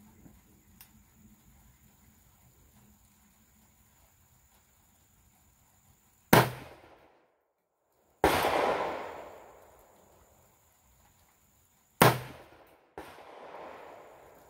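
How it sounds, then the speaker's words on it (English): Three sharp, loud reports from an original .41 rimfire Remington double derringer handgun, spaced several seconds apart, each with a decaying echo and a faint trailing tail after the last, with no talking. "That's a pretty powerful little handgun"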